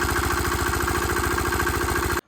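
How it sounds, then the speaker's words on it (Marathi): A diesel engine on a farm water pump chugs steadily with a fast, even knocking rhythm, loud and close, then cuts off abruptly. "इंजिन जोडलं त्यात टाकले टीचर आणि मारला बघा स्टार्टर"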